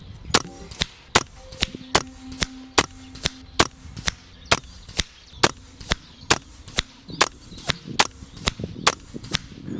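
A Brk Ghost air rifle fires Barracuda 15 pellets outdoors, about twenty sharp, evenly spaced cracks at a rapid, steady rhythm, each standing out loudly above a low background.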